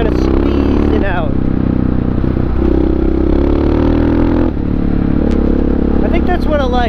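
A Honda XR650R supermoto motorcycle's single-cylinder engine starts up and revs loudly up close, a dense, continuous throbbing roar with rising and falling throttle blips, overlapping some talk.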